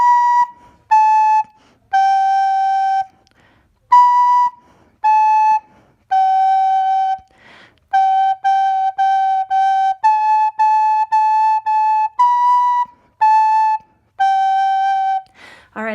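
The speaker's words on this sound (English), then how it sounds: "I will play it on the recorder once," Recorder notes played in a simple melody, about a dozen clear, pure whistling tones of short and medium length separated by brief gaps, loud and close with no talking.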